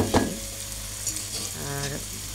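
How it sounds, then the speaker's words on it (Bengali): Onions and garlic frying together in hot oil for chicken biryani, a steady sizzle under an opening clatter of a spoon, with a faint voice briefly in the background. "দিয়ে পেঁয়াজ রসুন একসাথে ভেজে নিব"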